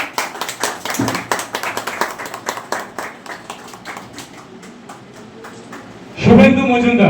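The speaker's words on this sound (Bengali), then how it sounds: "এটা জোরে হাততালি দিবেন।" A crowd claps loudly at a second-anniversary celebration with cake cutting as a guest is honored with a bouquet. Sharp, irregular claps fade out over a few seconds, then a voice starts speaking.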